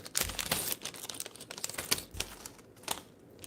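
Plastic packaging from a Blokees EVA-02 model kit crinkling right beside the microphone in irregular, crackly bursts, close and fairly loud, with no voice over it.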